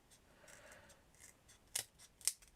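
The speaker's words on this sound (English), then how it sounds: "Let's see if I can cut this straight." Scissors cut through card for miniature garage doors in a vintage garage diorama: a faint rustle of handling, then two crisp, close snips about half a second apart.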